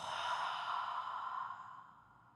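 A single long, forceful exhale pushed out through the mouth during a yoga breathing round, breathy and steady for about two seconds before tapering off, close and alone with no talk.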